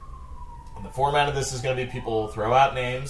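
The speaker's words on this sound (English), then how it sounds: "That's the siren in the background." A siren wails in the background on a Los Angeles street, a steady tone gliding slowly downward, then sinking beneath close, loud talk that carries on over it.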